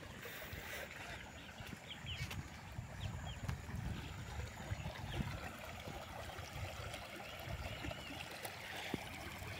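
Steady rushing floodwater flowing out of farm fields after heavy rain, a broad even wash of sound with no voices, over a submerged millet crop.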